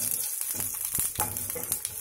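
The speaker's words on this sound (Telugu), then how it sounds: "మన పోపు కూడా వేగడం స్టార్ట్ అయింది," A tempering of spices fries in ghee in a pan for mint dal curry, a steady close crackling sizzle with small pops and faint stirring taps.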